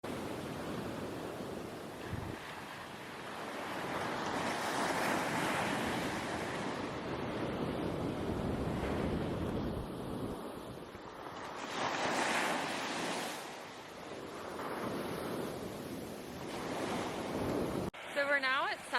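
Ocean surf rolls in at Sunset Beach in Cape May, a steady broad wash of breaking waves with swelling surges, wind buffeting the microphone, and no talking.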